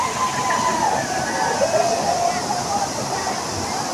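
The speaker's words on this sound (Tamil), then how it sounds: "அந்த ரெண்டாவது அருவி கம்மியாக தான் இருந்துச்சு இப்போ செம ஸ்பீடாக விழுகுது தண்ணி" A waterfall at Courtallam pours fast with a constant heavy roar, while a voice speaks briefly over the rushing water.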